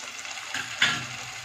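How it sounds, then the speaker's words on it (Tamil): Ginger garlic paste fries and is stirred in a pan for a Tamil brinjal stir-fry with tomato and curry leaves, giving a close crackling sizzle with a sharper spatter burst partway through. "அடுத்தது வந்து இஞ்சி பூண்டு பேஸ்ட் கொஞ்சம்,"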